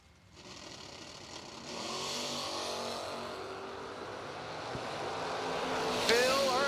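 At a bracket drag race, cars including a Camaro launch from the line: distant engine noise swells into a rising roar that builds steadily and grows louder toward the end, under a faint background murmur.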